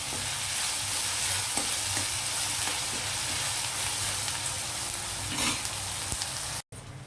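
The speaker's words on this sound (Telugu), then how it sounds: "కొంచెం వేగాలి ఉల్లిపాయలు." Onions for chicken curry sizzle steadily in a hot pan, a continuous frying hiss with occasional stirring scrapes, close and even, ending in a brief cut.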